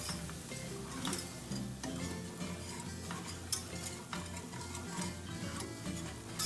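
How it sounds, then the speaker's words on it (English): Quick, steady stirring of flour into browning butter in a pan for biscuits-and-gravy roux, soft scraping with light ticks over a continuous sizzle, no talking. "we're gonna add our flour, a 1/4 cup of flour, and we're gonna stir. Stir this pretty quickly."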